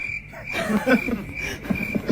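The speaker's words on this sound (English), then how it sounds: "I didn't even add those crickets, by the way." Cricket chirping played as a comedy sound effect after a joke falls flat, a steady high chirp running throughout at moderate level.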